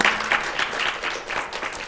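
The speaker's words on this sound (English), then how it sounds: "Can we have an applause here, guys?" Audience clapping during a university talk-show style event, a brief stretch of steady, fairly loud applause from a room full of people, with no talk over it.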